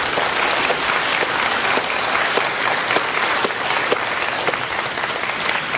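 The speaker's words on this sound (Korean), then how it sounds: "큰 격려의 박수 부탁드리겠습니다." Sustained audience applause fills a hall at the 2015 World Human Rights Cities Forum opening ceremony in Gwangju, dense and steady clapping throughout with no voices on top.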